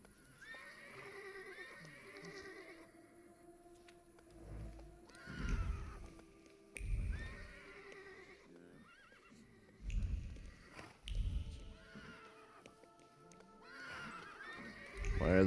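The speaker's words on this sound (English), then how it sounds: "Why are the horses all pissed off?" Horses in the video game The Thaumaturge neigh and whinny in several loud bursts, with hoof clip-clops, spaced over a quiet ambient background with no talk.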